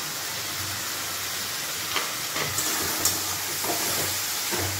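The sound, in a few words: stirring and frying masala for mutton curry in a pan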